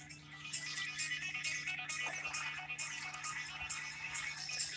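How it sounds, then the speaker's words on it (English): A phone ringtone chirps in a repeating pattern of short bright bursts, fairly quiet and outdoors on a riverbank, with a low steady hum beneath it and no talking. "And of course, I'm getting a phone call."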